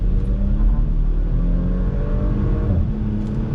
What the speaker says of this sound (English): I'm going to go ahead and get on throttle